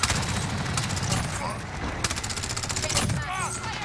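Rapid automatic fire from a P90 submachine gun in Call of Duty Modern Warfare, dense bursts of close, loud shots over a busy game soundscape, with brief pauses and a few sharper cracks.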